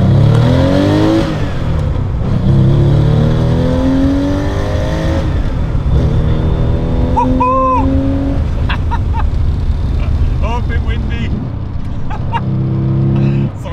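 A Porsche 993 Carrera 4S accelerates hard on a motorway, its engine rising in pitch through several gears with brief drops at each shift, loud and close from inside the car, with steady road and wind noise.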